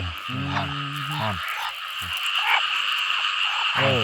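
Several frogs croak in a flooded rice field during heavy rain, loud rapid guttural calls coming in bursts over a steady hiss of falling rain, with nearby calls standing out from the wet background.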